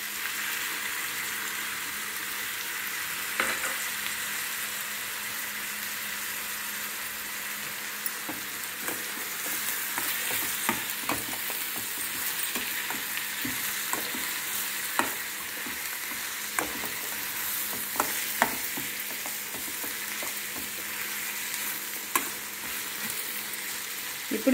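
Tomatoes fry with fenugreek leaves in a pan, a soft continuous sizzle punctuated by sharp stirring clicks and scrapes, with no voices.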